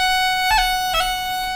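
Irish fiddle sustaining a bowed note broken by two separate cuts, quick grace-note flicks of the roll ornament, heard alone, close and steady.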